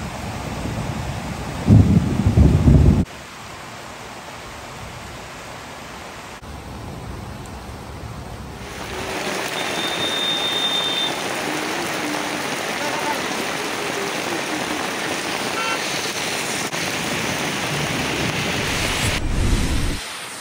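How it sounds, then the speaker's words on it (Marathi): Heavy unseasonal November evening rain in the Khed area near Pune. After a few seconds of brief, louder sounds and a quieter gap, a steady broad hiss of downpour settles in and continues evenly. "अवकाळी पावसाने आज शुक्रवारी 10 नोव्हेंबर रोजी सायंकाळी अशी दमदार बरसात केली"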